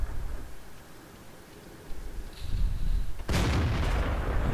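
A single heavy tank cannon shot in a video game goes off loudly after a quiet, rumbling stretch, with a brief mechanical whine just before the blast and a lingering roar afterward.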